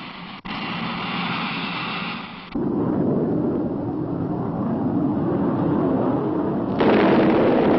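Bombs released from a bomber detonating in a continuous, heavy roar of blasts that swells after a few seconds and again near the end, loud and sustained with no speech.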